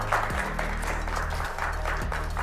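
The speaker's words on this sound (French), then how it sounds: "bonne main d'applaudissements pour Jean-Loup David." An audience at a regional literary prize ceremony applauds an author with a short burst of clapping, heard over a strong, steady low hum with sliding tones.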